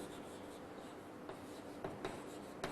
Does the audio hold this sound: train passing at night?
no